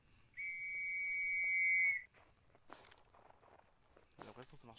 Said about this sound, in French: Mon coup de sifflet.